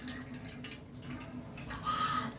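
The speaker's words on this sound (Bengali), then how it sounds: "প্রথমে এই চিড়েটা আমি জল দিয়ে ধুয়ে নেব।" Flattened rice (chira) is rinsed with water in a bowl, giving soft, close, continuous trickling and dripping at a low level. No voices are present.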